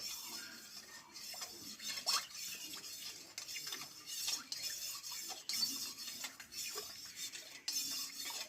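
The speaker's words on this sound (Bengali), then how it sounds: "এবার এইভাবে চামচের সাহায্যে ভালোভাবে আমি লবণ আর চিনিটা গলিয়ে নেব" A spoon stirring salt and sugar into lukewarm water in a container, with repeated light metal clinks and scrapes against the sides in an uneven rhythm, close and fairly soft.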